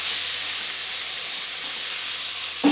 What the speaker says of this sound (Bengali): এটা ভালোভাবে এবার নাড়বো, নেড়ে অল্প একটু জল দেবো